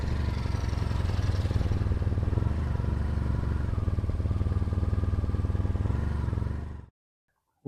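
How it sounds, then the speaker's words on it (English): A 34-year-old two-stroke Suzuki RG250 motorbike engine runs at a steady, rattly idle close by, with a buzzy, popping exhaust throb that cuts off abruptly near the end. "2-stroke RG250. You see, that's 34 years old."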